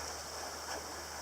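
A creek flowing beside a nature walk spot, a steady soft rushing of water heard up close with no voices.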